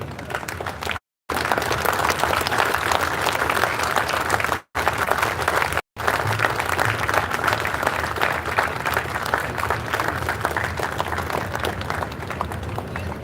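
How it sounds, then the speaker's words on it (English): A standing audience gives sustained loud applause for a family at a university Golden Jubilee celebration, thick continuous clapping throughout with a few brief dropouts. "Can I ask everybody to stand up and make a lot of applause for the family?"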